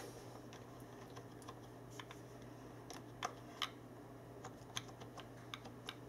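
Low-profile keys on a SteelSeries Apex keyboard are typed at close range, giving quiet, irregular clicks with a few sharper taps over a faint steady hum, and no voices.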